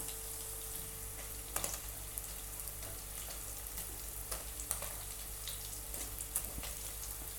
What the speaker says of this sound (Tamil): நல்லா திருப்பி போட்டேன். இந்த சைடு நல்லா ஃப்ரை ஆகட்டும்.